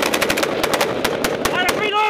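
Gunfire rattles during a firefight in Afghanistan, with rapid close shots in quick irregular bursts filling the whole stretch, loud and sharp over a shouting voice.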